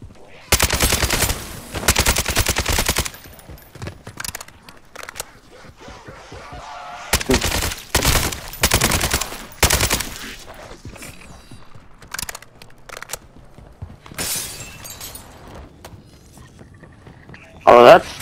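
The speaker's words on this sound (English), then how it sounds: "Oh, that's guns." Call of Duty video game gunfire: loud bursts of rapid automatic shots separated by quiet gaps, with a few sporadic single shots and a faint voice between volleys.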